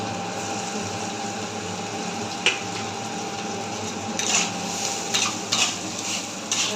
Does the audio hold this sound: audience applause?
no